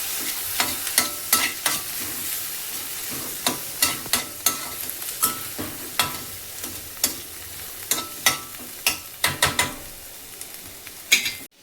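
Turmeric being sautéed for a fenugreek-leaf (methi) bhaji, a spatula scraping and stirring a sizzling pan in a steady run of sharp, close clinks over a soft frying hiss, with no talk.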